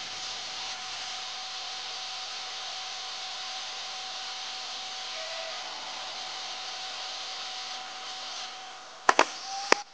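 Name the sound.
hot air rework station heating iPhone motherboard at 380 Celsius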